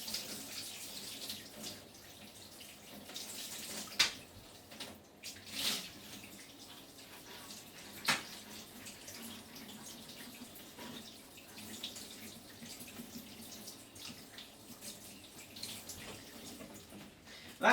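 Water runs from a sparkler tap while something is rinsed, a soft steady trickle with occasional clinks and splashes, fairly close and quiet throughout.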